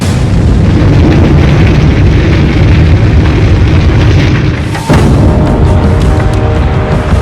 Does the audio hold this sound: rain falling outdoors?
no